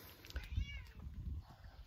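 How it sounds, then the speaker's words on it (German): A cat meows close by outdoors beside a Sufi saint's tomb, a couple of short calls over low background noise. "Die Katze ist jetzt gerade hier bei mir."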